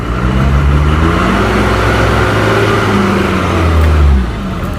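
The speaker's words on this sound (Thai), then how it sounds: "เอาครับ รถไถจะดึงครับ" A tractor engine revs hard while pulling a dump truck stuck in mud, a loud, sustained, throaty drone that pushes higher near the end before easing off, with no talk over it.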